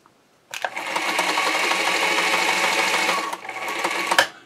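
A Singer 237 sewing machine running dry with no thread, its steady mechanical whir rising fast and holding for about three seconds, then a brief dip and a short second burst ending in a clunk.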